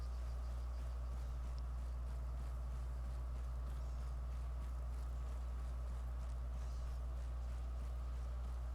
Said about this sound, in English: I don't like that I'm continuing to hear a vehicle.